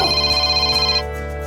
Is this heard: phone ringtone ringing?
yes